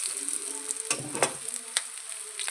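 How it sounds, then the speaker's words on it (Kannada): Peanuts crackle and pop as they fry in a hot pan, a steady close sizzle dotted with sharp snaps and a few louder bursts, with no talking. "ನೋಡಿ, ಶೇಂಗಾ ಚೆನ್ನಾಗಿ ಫ್ರೈ ಆಗ್ತಾಯಿದೆ. ಎಲ್ಲ ಚಿಟಿಪಿಟಿ ಅಂತ ಸೌಂಡ್ ಬರ್ತಾಯಿದೆ."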